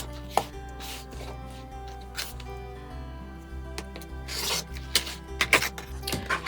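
Quilt fabric cut along a ruler with a rotary cutter, a series of close scraping strokes and small taps across a quiet sewing room with a low background hum.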